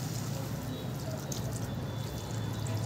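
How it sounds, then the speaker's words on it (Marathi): Half a glass of water poured into a pan of broccoli, a quiet, continuous watery splash and trickle that holds steady for a few seconds, close by with no talk. "आता त्याच्यामध्ये अर्धा ग्लास आपल्याला पाणी घालायचं."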